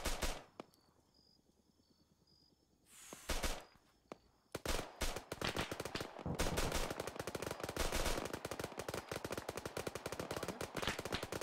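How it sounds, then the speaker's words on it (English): Friendly automatic gunfire in an Arma 3 jungle island amphibious assault: a quiet lull with a few isolated shots, then from about five seconds a dense, loud, continuous stream of overlapping bursts and rapid shots. "That's friendlies shooting out."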